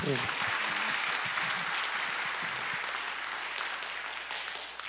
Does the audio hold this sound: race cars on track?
no